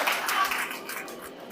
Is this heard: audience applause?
yes